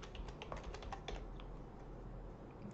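Rapid keystrokes on a computer keyboard as search keywords are entered, a steady run of light, close clicks over a low background hum, with no talking.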